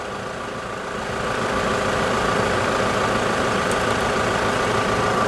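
A 2013 Toyota SW4 engine runs at idle in a workshop, a steady low rumbling drone that swells slightly after the first second and then holds constant, with no talk over it.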